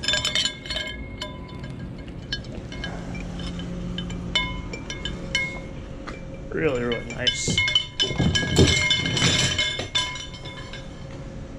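Glass pieces being taken off a salvaged item, with sharp clinks and rattles of glass on glass, denser in the second half and close by, while a person speaks briefly.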